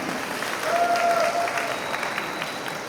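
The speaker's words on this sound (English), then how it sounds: "Let us give a big round of applause for all of us." Audience applause at a runway fashion showdown, a steady wash of many hands clapping at moderate volume, holding evenly for a few seconds with a faint tone underneath.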